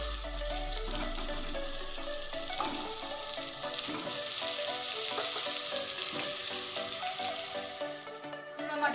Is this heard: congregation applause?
no